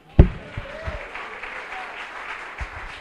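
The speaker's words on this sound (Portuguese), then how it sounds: "Pode aplaudir ao Senhor." A church congregation applauding during an evening worship service, a loud thump at the start followed by scattered, fairly faint clapping continuing underneath.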